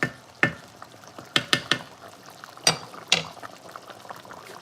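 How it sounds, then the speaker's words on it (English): Italian sausage soup boils in a pot, bubbling steadily with a run of sharp pops and clinks spaced irregularly over the simmer. No one speaks. "Let it boil a little bit."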